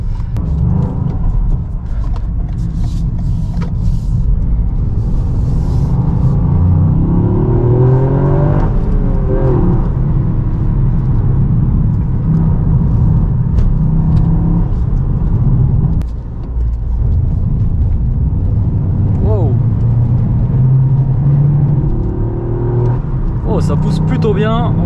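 Toyota GR Yaris turbo engine accelerating hard through several gears, rising engine notes with brief shift dips, loud from inside the cabin, while someone talks throughout.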